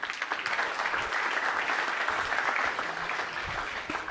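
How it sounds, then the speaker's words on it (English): An audience at a public-sector forum applauds a speaker coming to the stage, with dense, steady clapping that holds at an even level from start to finish. "Warm hand of applause for Martin Huber"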